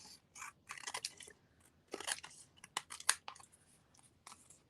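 Scissors trimming craft paper, giving a series of short crisp snips and crunchy cuts in irregular bursts, close up and fairly quiet, with no talking.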